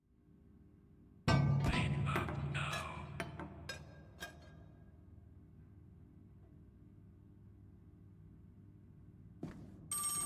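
An old-style telephone bell rings in the DishWashing Simulator survival horror game, a loud burst of rapid metallic clangs that stops abruptly and is followed by a quiet hum, then a brief return of the ringing near the end.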